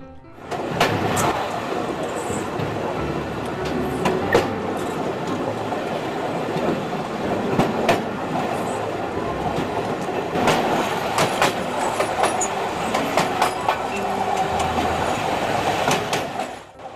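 Passenger train rolling on rails in Poland, heard from aboard as a steady loud rumble with repeated clickety-clack wheel beats over the rail joints, continuing throughout.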